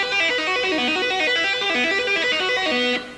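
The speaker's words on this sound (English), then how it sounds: "So if I move that same lick to the second string, it would sound like this." Fast tapped shred lick on an electric guitar's second string, a bright distorted run of rapid notes climbing and falling in repeated cycles, played solo and up close before stopping abruptly near three seconds.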